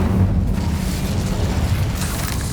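An Incendio fire spell cast in Hogwarts Legacy bursts with a deep whooshing boom that rumbles on steadily and fades slightly toward the end, with a faint flare near the close.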